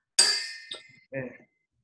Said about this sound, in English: Let's see if my bell sounds a little better.